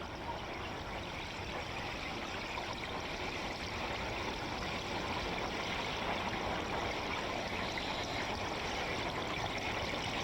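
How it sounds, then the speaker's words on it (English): Gas streams from an underwater volcanic vent off Turtle Island, sending up columns of bubbles in a dense, continuous rushing and fizzing wash that stays steady and moderately loud throughout. "The ear-splitting sound of gaseous emissions and enormous columns of bubbles"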